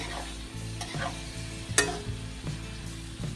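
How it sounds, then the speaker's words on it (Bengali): Spoon stirring a yogurt mixture in a pan over a low gas flame for a sattvic dish, steady scraping strokes with one sharper clink near the middle, close and alone. "আগে একটু মিক্স করে নিই এটাকে"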